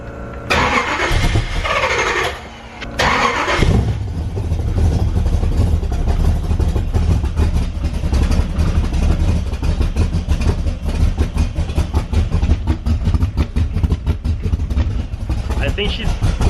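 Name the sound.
Z06 Corvette engine with long tube headers starting and idling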